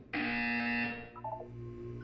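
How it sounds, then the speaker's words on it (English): A loud, harsh electronic buzzer from the video game Portal 2 blares for about a second, then fades into a softer descending electronic tone. "You will hear a buzzer."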